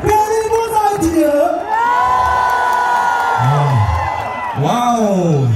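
A large outdoor Schlager festival crowd in Berlin cheers and whoops loudly for a singer, with sustained shouting, high voices and clapping throughout and a voice booming over the noise.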